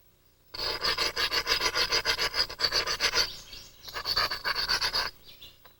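A novaculite stone edge is ground during knapping, making a close, loud rhythmic rasping of rapid back-and-forth strokes in two bursts separated by a short pause.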